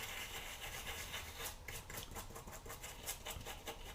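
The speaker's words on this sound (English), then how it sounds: "Douse it. And scrub." A brush scrubs a liquid-soaked Caddx Vista circuit board to strip off its casing, producing steady close rasping strokes that turn into a quicker rhythmic back-and-forth scratching in the second half, with no talking.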